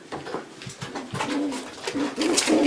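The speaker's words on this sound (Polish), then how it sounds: "To jest samczyk z tych gołębi Skórskiego z linii" Pigeons coo softly nearby in a loft, a series of low rolling calls repeating over a quiet background.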